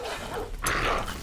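Dog barks inside a video game, probably the Titan shooter, during a chaotic dog-versus-dog fight: a short burst of near, loud yelping and barking layered over continuous game noise.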